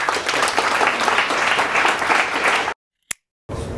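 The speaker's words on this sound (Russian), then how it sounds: "Давайте похлопаем" Loud, sustained clapping from a live audience at an apartment-concert talk show, steady and full for nearly three seconds before cutting off abruptly, with a short click in the silence after.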